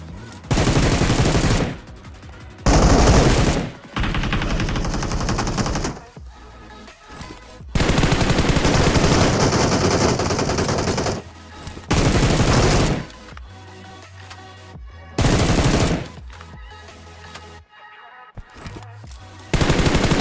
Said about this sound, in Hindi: ये पहाड़ी पर जाकर मेरे ऊपर फायरिंग करेंगे